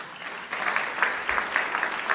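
An audience at a Nevada State of the State address claps in a brief, moderate burst, with scattered individual claps standing out against the room.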